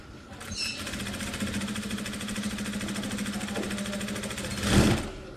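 A sewing machine runs steadily while stitching a double welt pocket, a loud close continuous mechanical whir with a rapid needle rhythm for about five seconds, ending in a brief louder clunk.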